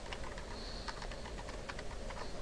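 Quick run of keystrokes on a computer keyboard entering a username and password, a rapid patter of clicks close by against a quiet room hum.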